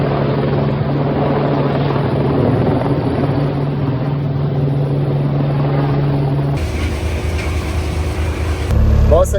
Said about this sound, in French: il y a de grandes chances qu'il passe, l'hélico, ça s'éclaircit.